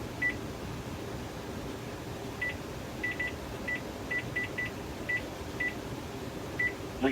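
A Panasonic KX-TG1031S cordless phone with a digital answering system gives a series of short, identical electronic beeps at irregular intervals over a soft steady background hum.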